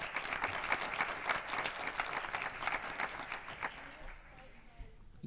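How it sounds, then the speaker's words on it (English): An audience at an innovation challenge and hack event claps to welcome a presenter to the stage, steady moderate applause that fades out near the end. "Let's bring her on the stage with a welcoming applause."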